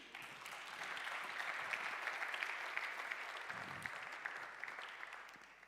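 Audience applause at a symposium on arts and technology, a soft, steady patter of many hands clapping at moderate distance, swelling slightly then tapering toward the end.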